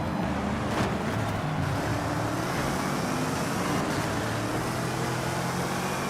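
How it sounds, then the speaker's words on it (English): A 5-liter supercharged V8 car engine in the racing game Forza Horizon 5 gives a steady, droning roar with a low rumble throughout. The level stays constant and continuous, with no pauses and no voices over it. "That 5-liter supercharged V8 sounds awesome."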